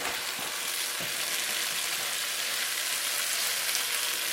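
Onions, cilantro and fish hit a hot frying pan for a chili bean sauce stir fry, giving a steady, close sizzling hiss with a few brief stirring knocks near the start and no talking.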